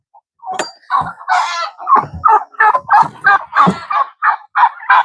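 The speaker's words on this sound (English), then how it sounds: "I'm letting the chickens and turkeys out next." Chickens and turkeys let out of their pen in the morning, a close, busy run of clucks and gobbles in short bursts, one call after another over about five seconds.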